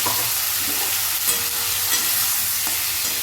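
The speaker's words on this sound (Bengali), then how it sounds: "এর ভেতর এবার দিয়ে দিচ্ছি যে রেডি করে রেখেছিলাম মশলার পেস্টটা সেটা দিয়ে দিলাম" Spice paste being stirred into vegetables frying in oil, a dense, close, constant sizzle with soft scraping strokes of a spatula throughout.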